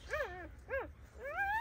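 Newborn puppies, born overnight and huddled together against the cold, give three thin rising-and-falling whimpers in quick succession, close and fairly soft.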